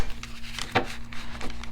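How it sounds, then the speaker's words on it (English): Tarot cards being shuffled by hand, a few soft papery riffles and flicks close up over a steady low hum, with one brighter snap near the middle. "let's get another shuffle here."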